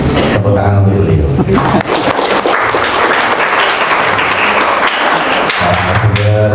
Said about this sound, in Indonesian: Itu semuanya tepuk tangan untuk beliau